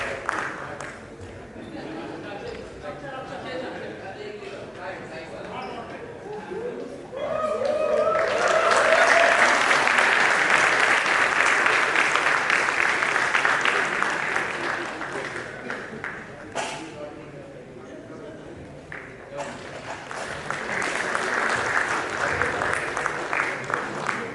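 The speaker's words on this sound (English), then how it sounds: "So please applaud." Audience applause at an institute's annual gymkhana award ceremony swells into a loud, sustained round after speech, fades, then returns in a second burst, with talk heard before and between.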